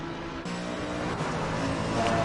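A race car in a racing video game at the Donington circuit, its engine droning loudly and steadily at close range, with a sharp shift in tone partway through and no pauses in the sound.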